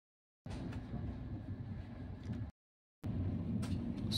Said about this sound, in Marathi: पनवेल स्टेशनवरून आपली गाडी चालू झालेली आहे